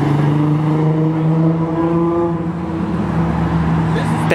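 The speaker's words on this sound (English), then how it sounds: "A race truck." A race truck engine growls loud and steady nearby, its low harmonic drone shifting pitch as it revs, with a brief sharp noise at the very end and no clear speech over it.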